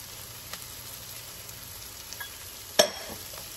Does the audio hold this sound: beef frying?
yes